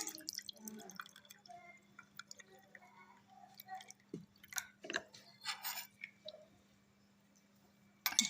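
Rooh Afza sharbat being mixed with ice and cold water gives soft wet clinks, drips and sloshing stirs, scattered and fairly quiet, with a sharper knock near the end.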